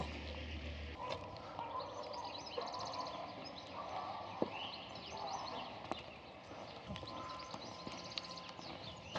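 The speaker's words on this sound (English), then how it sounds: "Hey, horsey. Good horsey, huh? Good horsey." Horse hooves clip-clop at a steady moderate distance along a rural stretch of the Camino del Norte, irregular soft knocks over a constant outdoor background with faint birdsong.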